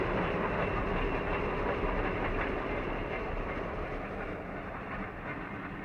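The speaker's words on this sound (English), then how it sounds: "a 280 helper is shoving hard on the rear of the train" A heavy freight train grinds along near Lake Tahoe Road in the Truckee River Canyon as a helper locomotive shoves hard at the rear, a loud rumbling engine drone with rhythmic clickety-clack of wagons slowly fading.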